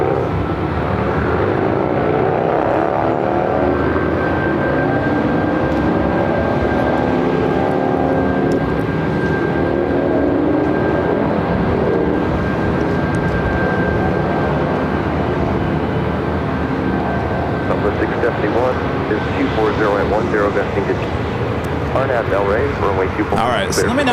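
Aircraft engines roar loudly and continuously on the runway at LAX, a steady heavy rumble with a sustained tone, while a voice speaks over it.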